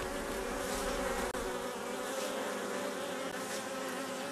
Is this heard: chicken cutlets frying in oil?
no